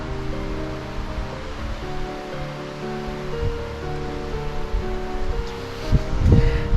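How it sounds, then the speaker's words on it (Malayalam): A small waterfall and stream below a viewpoint at Ponmudi hill station send up a continuous rushing murmur of water mixed with faint rustling, heard from a distance and growing slightly louder near the end, with no talking. "ഇവിടെ താഴെ എന്തോ ചെറിയ വെള്ളച്ചാട്ടം അരുവിയൊക്കെ ഉണ്ട് കേട്ടോ"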